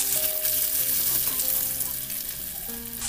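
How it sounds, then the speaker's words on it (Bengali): Chopped onion frying in hot oil with whole cardamom, cloves and chillies, a loud, continuous, dense sizzle that holds steady throughout. "এবারে একটু পেঁয়াজ কুচি দিয়ে দেবো তেলের ভিতরে।"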